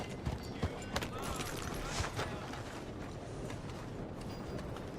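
Horse hooves galloping in Red Dead Redemption 2, a steady rapid clip-clop rhythm with a few sharper hoof strikes near the start, fairly faint and continuous, with some creaking tack alongside.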